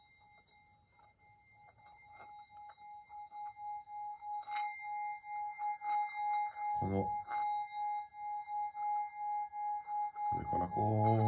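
A steady high metallic tone swells gradually louder with a pulsing waver as the rim of a small 8 cm singing bowl is rubbed, while a voice speaks briefly twice.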